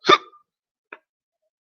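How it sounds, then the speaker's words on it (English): A single sharp, close hiccup pops out, followed by two much fainter little catches in near silence. "Got those fruit cup hiccups."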